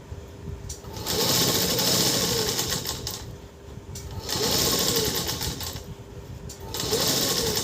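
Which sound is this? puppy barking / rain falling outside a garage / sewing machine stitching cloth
sewing machine stitching cloth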